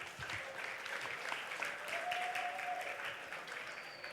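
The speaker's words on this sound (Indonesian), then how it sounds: "Mari kita beri tepuk tangan yang meriah sama-sama." An audience at an Isra Mi'raj religious gathering gives sustained, even applause that fills the room at moderate distance, with faint tonal sounds and murmur underneath.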